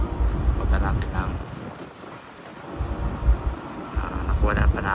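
Strong wind roars across a cruise ship deck on the Atlantic at sunset, buffeting the microphone in heavy gusts that surge and fade over a low rumble of the sea.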